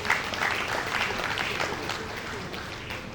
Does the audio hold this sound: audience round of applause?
yes